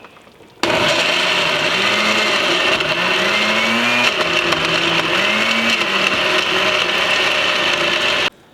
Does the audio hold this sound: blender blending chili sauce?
yes